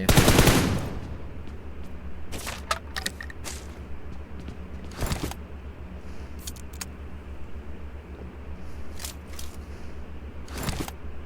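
Automatic gunfire in PUBG Mobile: several rapid bursts of shots, one heavy volley at the start and others scattered through the clip, some near and loud, some sharper and shorter, over a steady low game hum.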